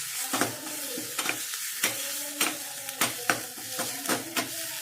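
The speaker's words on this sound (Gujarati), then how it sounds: "હવે આ તડકાને આપણે દાળની અંદર એડ કરી દઈશું." Hot tadka with ginger garlic paste going into a pot of dal fry, giving a close sizzling hiss broken by regular scraping stirs of a spoon against the pot, with no voices.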